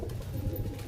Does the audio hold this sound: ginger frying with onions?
no